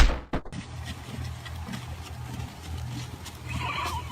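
A horse neighing, a fairly close whinny with a sharp attack followed by a wavering, fading call over low background rumble and light noise.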